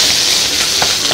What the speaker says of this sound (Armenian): Բոլոր կողմերից հաճելիորեն տապակված է արդեն, կեղևապատված։